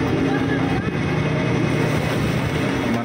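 A tour boat on the water off Mumbai turns around, its engine giving a steady, loud, close rumble with rushing wind and water noise throughout.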